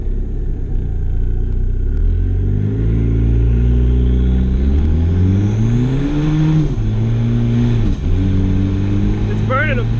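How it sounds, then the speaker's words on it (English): A $500 turbocharged car launches hard, its engine revving loudly and climbing in pitch through the gears, a close and continuous roar with a brief dip partway through. "We'll give it a little launch"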